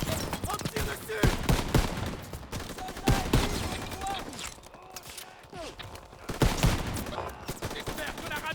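Gunfire rings out in the Battle of the Bulge in Call of Duty WWII, with bursts of rifle and machine-gun shots echoing at mid distance, scattered irregularly across the scene with some quieter gaps.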